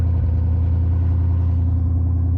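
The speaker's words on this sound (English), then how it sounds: "that is a glorious noise. I mean, come on, American V8, 500 horsepower" A 500-horsepower American V8 in a Mustang runs with a deep, loud, steady rumble, close and constant without pauses.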